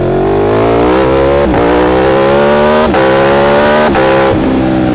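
A 2019 Aprilia Tuono V4 1100 RR motorcycle accelerates hard under quickshifter upshifts, its loud V4 engine note climbing steadily and breaking briefly at each of three quick gear changes, close by with no talk.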